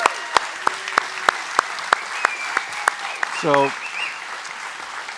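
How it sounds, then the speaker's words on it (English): A church congregation applauding for Cheryl, heard as a string of crisp, evenly spaced claps close by, with a brief spoken voice partway through. "So will you give Cheryl a round of applause with me?"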